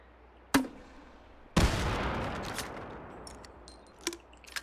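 Shotgun fire in the VR game Hot Dogs, Horseshoes & Hand Grenades: a sharp report, then a louder boom with a long rolling decay, followed by faint clicks and another crack.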